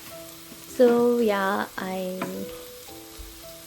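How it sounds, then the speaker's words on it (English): Eggs sizzling and being stirred in a frying pan, a steady close fry under a voice that speaks a single word. "you don't have to use another pan to again stir the eggs"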